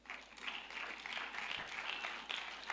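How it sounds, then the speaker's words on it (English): A hall audience at a children's tech festival claps for the young speakers, a quiet and fairly distant patter of many hands that runs continuously. "I also want us to clap for all the children that have spoken today."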